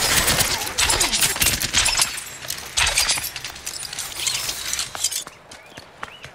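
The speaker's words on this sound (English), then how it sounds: "As Genji, you pretty much always want to be shooting" Genji hurling shuriken in the video game Overwatch, a dense stream of rapid, loud metallic throws and hits packed with chaotic combat effects, continuing for about five seconds before thinning to sparse clicks.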